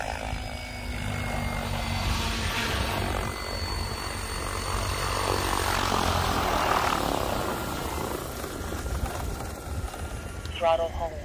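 A Protos 800X radio-controlled helicopter flies at an RC field, its rotor and motor whine rising and falling as it moves nearer and farther, with voices talking over it.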